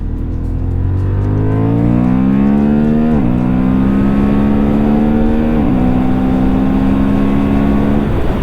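A 2026 Honda Hornet 750 E-Clutch motorcycle accelerates hard in sport mode, its engine note climbing steadily through two quick upshifts, loud and close with no talking.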